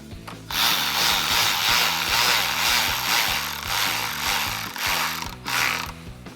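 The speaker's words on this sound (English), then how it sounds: "this is going to be an 8mm socket" Rapid ratchet clicking from an 8mm socket wrench loosening bolts while fitting a cold air intake on a 2006-2022 Dodge Charger 5.7L HEMI, steady, close and loud, continuing in bursts with no talk.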